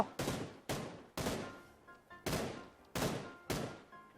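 Six heavy gunshots from the mobile game PUBG Lite, an AKM-style rifle firing single loud blasts at roughly half-second intervals, each with a short decaying tail.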